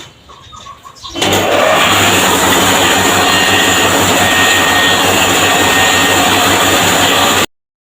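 A rice milling machine's engine starts at a rural Thai home: after a quiet moment it bursts into a loud, close, steady roar that holds for several seconds, then cuts off abruptly.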